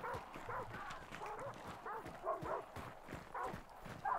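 Dogs bark repeatedly from a kennel in the video game Hunt: Showdown, a rhythmic series of moderately loud barks and yips, with people talking at the same time.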